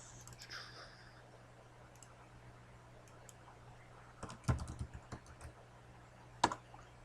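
Keys on a computer keyboard clatter faintly over a steady low hum at a desk, a few scattered taps building into a brief burst of typing and a final sharper key press.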